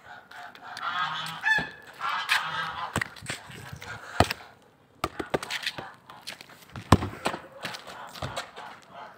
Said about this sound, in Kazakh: қаздар көрсетіп жіберейін.